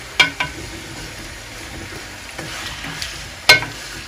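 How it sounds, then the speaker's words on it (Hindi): Meat fries in a pan with cumin, garlic and ginger for a biryani, giving a soft constant sizzle broken by a few sharp clanks and scrapes of stirring. "अब ज़ीरे के साथ और लहसुन अदरक के साथ तकरीबन 10 मिनट जो है मैं गोश्त को भूनूंगी।"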